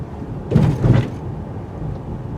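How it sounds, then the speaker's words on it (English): A 2019 Honda Passport AWD Elite rolls over a mild speed bump, giving two close low thumps from the suspension, about half a second apart, above a steady road rumble inside the cabin. "we're going to take some mild speed bumps, or humps if you want to call them that"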